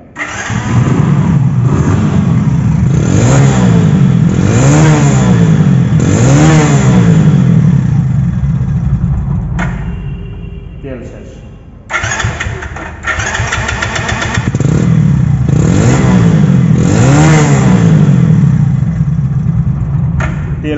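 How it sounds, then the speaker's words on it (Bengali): A secondhand Hero SF motorcycle in showroom condition revs loudly close by in repeated rising and falling bursts, dips briefly toward idle midway, then climbs through more strong revs. "এখন বাইকটির সাউন্ড কোয়ালিটি শোনাবো"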